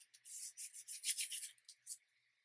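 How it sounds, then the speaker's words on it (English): A paper die cut is burnished down onto card, a close, soft, hissy rubbing in quick repeated strokes for about two seconds, then stopping. "Try and burnish this down."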